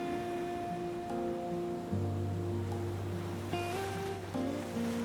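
Adriatic waves surge beneath the marble steps of Zadar's Sea Organ and push air through its pipes, producing shifting, sustained musical tones over a steady wash of surf.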